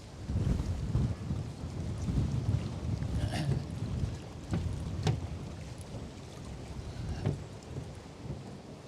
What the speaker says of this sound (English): The wind is getting kind of ridiculous now.